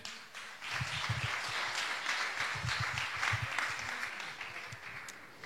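An audience claps through a steady round of applause at a Holywins 2021 evening event in La Réunion. The clapping stays dense and moderately distant throughout.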